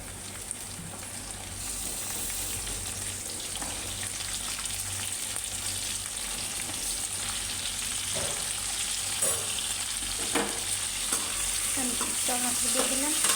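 Tomatoes hit a hot pan of sautéed spices and chillies, setting off a steady, rain-like sizzle with occasional stirring scrapes and clinks that grows slightly louder over the span, close up and with no voice.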